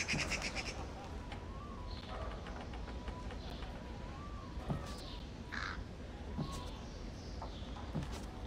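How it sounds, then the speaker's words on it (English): Birds cawing in a thief stealth video game, several short harsh calls spaced through a steady low ambient hum, moderately faint and without speech. "Sudden movements near birds will disturb them, alerting anyone nearby."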